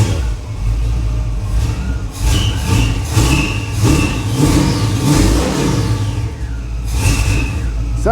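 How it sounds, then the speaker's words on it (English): A 1977 Monte Carlo engine revved repeatedly with the throttle, loud and close, rising and falling with uneven, stumbling misfires and hesitation, a voice faintly in the background. "Sounds like it's missing when I'm giving it throttle."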